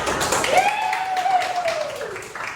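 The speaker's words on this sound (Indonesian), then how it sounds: "Beri tepuk tangan untuk saya." A burst of applause fills a classroom, with a long whistle that rises and then slowly falls over the clapping.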